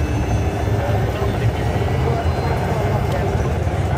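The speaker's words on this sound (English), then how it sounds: "we're firing up our little bird here, and we're just going to take it up in the air" Little Bird helicopter in the ARMA 3 video game, its engine running as a steady, loud low rumble with constant rotor thrum throughout, no clear spin-up change.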